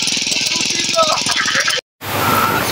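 A generator runs loud and close with a steady rattling engine drone, broken by a brief dropout before the drone resumes, and a voice is heard over it.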